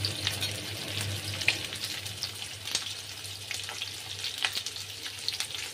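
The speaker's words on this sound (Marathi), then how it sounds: "एक 2 मिनिटं फक्त असं परतून घ्यायचं आहे." Chicken cut into square pieces sizzles and fries steadily in a pan for chilli chicken, with scattered clinks of stirring over a low hum throughout, no voices.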